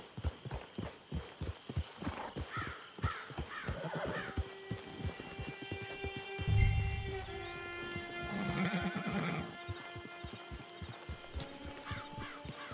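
A horse in the video game Red Dead Redemption 2 clip-clops with steady rhythmic hoofbeats while repeatedly neighing and whinnying in long tonal calls, close and clear, with a low snort midway.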